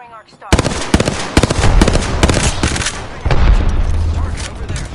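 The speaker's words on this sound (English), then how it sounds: "Calling Arcstar. Throwing Arcstar." In Apex Legends, an Arcstar grenade is thrown and detonates among loud, close, rapid blasts and gunfire-like bursts that continue densely to the end.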